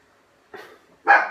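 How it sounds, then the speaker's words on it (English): Dogs bark twice, close by: a short yip followed by a louder, sharper bark, with silence before them and a brief pause between. "Yep, dogs are off."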